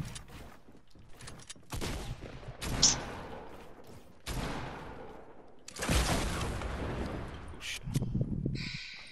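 Gunfire in the video game Fortnite: several loud, dense bursts of shots and blasts come in clusters, separated by short lulls.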